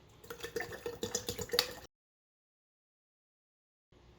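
Bottled water poured into a container for homemade carrot juice, a quick splashing gurgle with a few drips, close and fairly soft, cutting off abruptly into silence.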